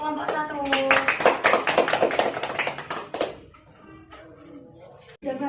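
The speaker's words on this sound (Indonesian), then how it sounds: "Tepuk tangan untuk kelompok 1." Classroom applause for a presenting student group during a microteaching lesson, a dense burst of many hands clapping for about three seconds, then fading into quieter room sounds and brief speech.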